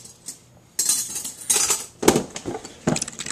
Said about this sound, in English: mix up the marinade